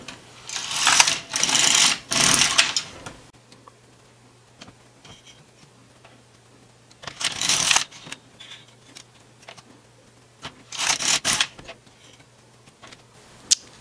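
An LK150 knitting machine carriage sweeps across the needle bed knitting rows of a child's sock, heard as three loud, rasping passes of a second or two each, separated by quiet gaps with a faint steady hum.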